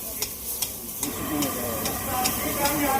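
Mutton masala with grated coconut and salt sizzles in a kadhai while being stirred and sautéed, a steady frying hiss with periodic scraping clicks of the spoon, close and moderately loud.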